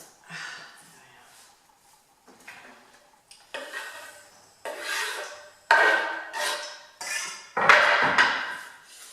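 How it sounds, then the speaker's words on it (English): Onions are chopped on a board while butter melts in a pan for leek and potato soup. Bursts of knife strokes and scraping come in uneven clusters separated by short pauses, growing louder and more forceful toward the end. "I can get on with cutting the onions"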